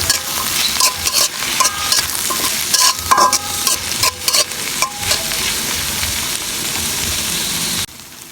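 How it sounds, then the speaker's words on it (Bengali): Garlic, onion and dried chili fry loudly in mustard oil, a close, dense sizzle with repeated stirring scrapes and clicks that cuts off abruptly just before the end. "সরিষার তেল দিয়ে এর ভিতরে দিয়ে দিলাম রসুন কুচি, রসুন, পেঁয়াজ"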